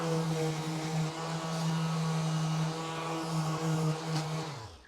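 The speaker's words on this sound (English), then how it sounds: "I'm just going to take a sander, and I'm going to come on the inside here and just sand these areas smooth." A power sander hums and whines steadily while smoothing the inside of a cut Hertz 6x9 speaker bag lid for a 2024 Harley-Davidson Road Glide or Street Glide, then winds down at the end.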